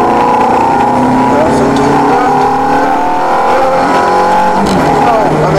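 A Ferrari F430 accelerating hard on the Trac Mon race track, its engine loud and close as it climbs through the revs, with an instructor talking over it.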